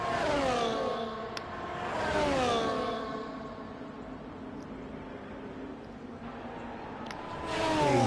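McLaren F1 car engine in a racing video game, a high-pitched whine repeatedly rising through gears and falling, passing and fading in waves, with no voices.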